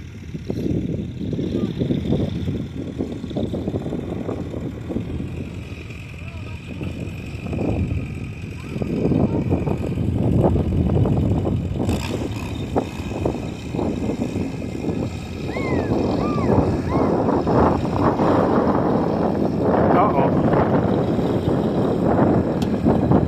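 A low Allis-Chalmers B tractor engine rumbles steadily throughout, loud and close, doing field work at a threshing bee, with wind buffeting the microphone and no talk.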